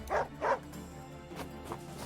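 A dog barking in the video game Wargroove, two short clear barks in quick succession followed by fainter yips against a steady game music bed.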